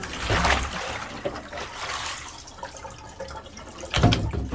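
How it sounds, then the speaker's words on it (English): Water from a Fluval 404 canister filter poured out in splashy gushes, one at the start and another near the end, with quieter trickling between. "So I'll just dump this water in here"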